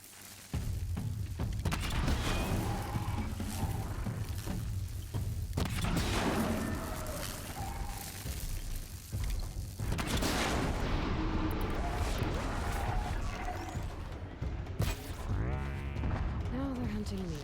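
Enemies fire weapons in the video game Horizon Zero Dawn, with repeated booming shots and thuds over a continuous game soundscape, while a player talks over them.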